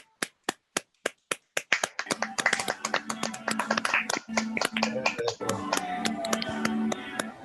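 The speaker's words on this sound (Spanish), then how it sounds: "Un fuerte aplauso" A few single sharp claps start it off, then many hands join into steady, lively clapping at an online project-management training session that carries on to the end.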